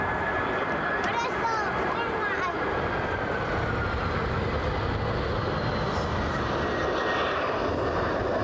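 A Boeing 747 at Brussels Airport, its jet engines producing a loud continuous roar with a steady whine, a fairly near and unbroken drone that lasts throughout.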